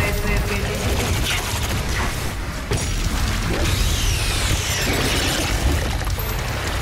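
Dense, continuous gunfire and explosions in the video game Doom Eternal, loud bursts overlapping with mechanical clatter throughout, with a voice briefly heard under the din.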